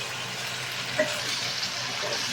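Paneer and potatoes sautéed and stirred in a pan, a soft, even sizzle running steadily throughout, with a faint spatula tap or two over it; close and fairly quiet, no voices.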